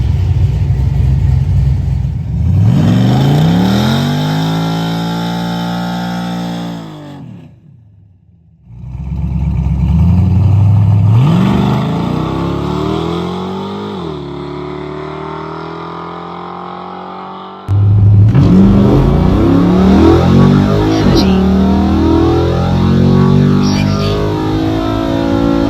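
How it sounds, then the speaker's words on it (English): A Pontiac Firebird's 305 engine revs up repeatedly, rising in pitch through the gears, pauses briefly, then roars again with a deep, rumbling growl up close. "I'm gonna fire this thing up, get some heat in the engine, and go make another test hit."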